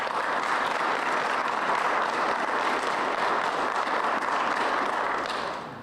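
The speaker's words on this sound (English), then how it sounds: "give your family and friends a great round of applause" Sustained applause from a crowd at a law enforcement training graduation ceremony, dense and even throughout before tapering slightly at the end.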